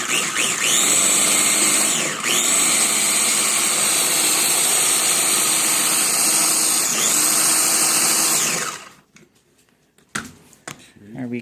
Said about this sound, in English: Scrape the sides a bit and give it another blend.